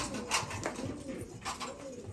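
Pigeons coo softly and steadily inside a coop, several low calls overlapping at a moderate distance with no voices.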